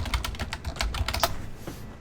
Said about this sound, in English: While he's typing